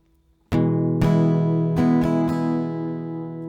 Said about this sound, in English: One strumming round will sound like this.